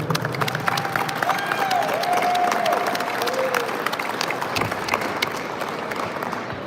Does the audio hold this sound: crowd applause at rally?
yes